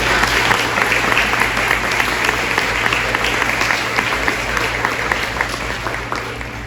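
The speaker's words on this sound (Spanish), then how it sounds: "Un aplauso, ¿no?" Audience at a psychotherapy and spirituality talk applauding a doctor, a dense, loud, sustained clapping from many hands that holds steady throughout and eases only slightly at the close.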